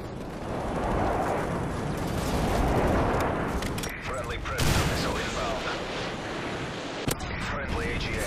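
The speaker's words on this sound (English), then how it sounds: "Friendly airstrike on the way." Airstrike explosions from a military shooter video game form dense, rumbling bursts of blasts and gunfire that swell and roll on continuously, loud and chaotic, with no clear gaps.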